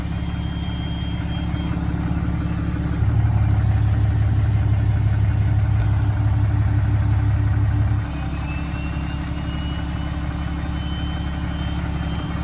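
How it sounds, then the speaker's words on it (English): The diesel engine of a 2010 Cummins truck idles at cold startup. Its steady low rumble rises into a louder, droning exhaust-brake note for about five seconds, then drops back to idle, with no talking. "I like the sound of the exhaust brake on cold startup."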